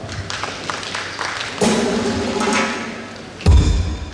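Audience at a school heads' annual general meeting and conference in Mombasa clapping for an honoured guest, a moderate round of applause that surges midway and again near the end with a thud.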